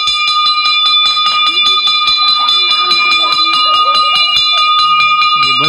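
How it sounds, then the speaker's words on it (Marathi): A school bell rings rapidly and continuously at the end of the school day, a bright metallic clatter that stays loud throughout, with faint voices underneath. "हा जो इशारा असतो हा आपली शाळा सुटण्याचा इशारा असतो."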